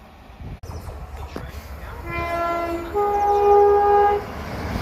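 A Class 387 Gatwick Express electric train passes close by, rumbling steadily and growing louder, then sounds a long two-tone horn that holds for over a second near the end.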